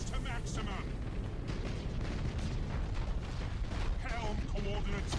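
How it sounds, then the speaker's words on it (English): Torpedo hits exploding during a space battle in the video game Battlefleet Gothic: Armada, a dense, continuous rumble of booms and blasts with someone talking over it. "Torpedo hits."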